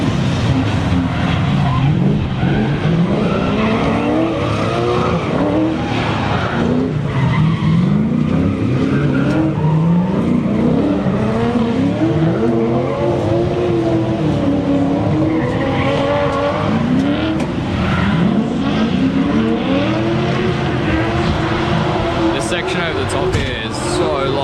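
Car engines rev and whine continuously while tires squeal through handbrake drift slides, with voices talking over the noise throughout.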